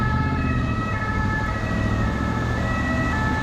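Ambulance siren wailing steadily through a heavy traffic jam on a French motorway, heard from inside a nearby car over a constant low road and engine rumble.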